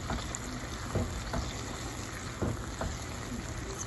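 Food with yam being stirred in a pan: soft continuous sizzling and scraping with occasional clinks of the utensil, close and fairly quiet.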